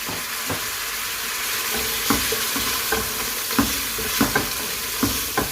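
Chicken sautéing in a pan with ginger garlic paste for a white sauce broccoli pasta: a steady hiss of frying broken by repeated scrapes and taps of a spoon against the pan.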